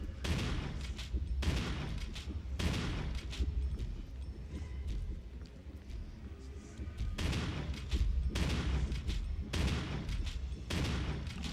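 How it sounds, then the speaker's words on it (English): Shotgun blasts in the Resident Evil Remake video game, a series of loud booming shots that roughly repeat every second or so over a continuous dense game soundscape, with no talk. "As can be expected, the shotgun has a bit of a damage drop-off."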